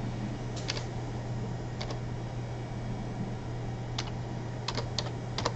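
Scattered keystrokes on a computer keyboard, typed in short irregular bursts of a few clicks while entering lowercase VBA code for an Excel worksheet, sound close and crisp over a steady low electrical hum, with no speech.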